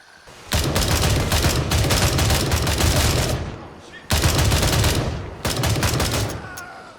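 Gray Zone Warfare gunfire: loud, close bursts of rapid automatic fire in two long stretches with a short gap between them, and a voice talking underneath.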